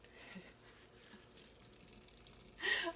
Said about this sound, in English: Look how much water comes out of it!